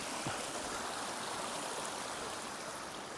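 Steady rushing flow of a river running beside a walking path outdoors, a continuous broadband wash of water heard close and fairly loud, with no voices.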